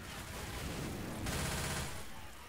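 Bursts of rapid gunfire from the zombie shooter game Left 4 Dead 2 run in a continuous fusillade, fairly faint in the mix, with a brief swell partway through.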